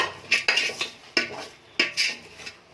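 Sprouted gram frying in oil in a pan while a utensil stirs it, giving four distinct metallic scrapes and clinks against the pan at roughly half-second to second intervals, close and clear, with no voice.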